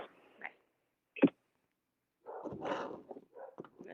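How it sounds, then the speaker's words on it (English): Dogs barking indoors in short, separate bursts, loud and close, with a growling or whimpering edge between barks. "Let's see if I can get the dogs to be quiet"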